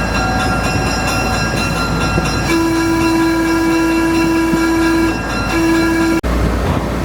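A train rumbles steadily along the rails as it is pulled backwards into a station in Nevada, with a long sustained horn tone sounding partway through, loud and close.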